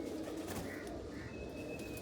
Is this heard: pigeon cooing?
yes